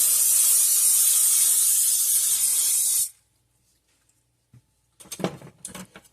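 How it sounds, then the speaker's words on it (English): A loud, steady hiss of cooking spray on a baking pan lasts about three seconds, followed by silence and then a few light clatters and taps. "You want to spray your pan."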